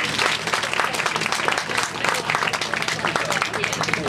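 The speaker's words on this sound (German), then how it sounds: "Nochmal einen kleinen Applaus für meinen kleinen Freund." An audience applauds a young boy on stage at a live show, with dense, lively clapping filling the space and a voice partly audible underneath.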